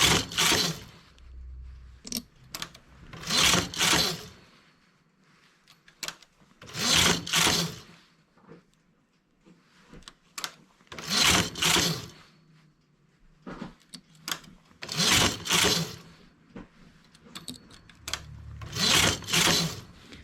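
Domestic knitting machine carriage sliding back and forth while knitting a bikini bottom, a series of loud rasping, whooshing passes with short quiet gaps between them, close and with no talking.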